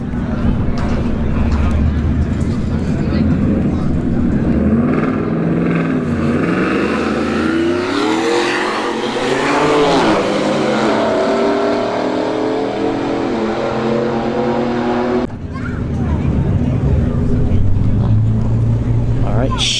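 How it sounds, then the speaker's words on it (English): A Ford F-150 pickup and a BMW M3 run side by side at a drag strip at Bradenton Motorsports Park, engines roaring and revving with rising pitch amid loud, rough crowd and track noise. The noise drops briefly near the end. "F-150 versus an M3."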